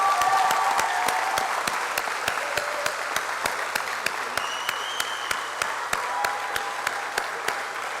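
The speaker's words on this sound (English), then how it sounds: "let's just have a really hearty round of applause for 50 years of excellence" An audience at a 2023 Hugh Wooding Law School graduation ceremony gives a hearty round of applause, sustained clapping with sharp individual claps standing out, fairly close and without talk.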